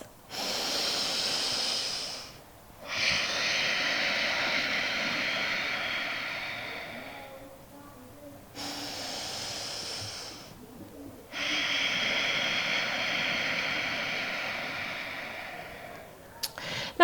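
Slow yoga breathing during a seated forward stretch, long drawn inhales and exhales through the nose with short quiet gaps between them, close and alone without speech.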